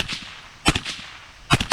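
Rifle shots fired at targets during a shooting competition at a rod and gun club, two sharp cracks close together followed by another pair, each with a short echo over faint background noise.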